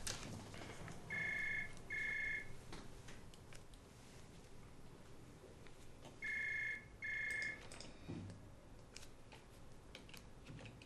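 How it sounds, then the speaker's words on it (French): A telephone rings in an office drama setting, two bursts of electronic double tones, a pause, then two more, moderately loud over a low background hum. "votre téléphone sonne depuis un bout de temps"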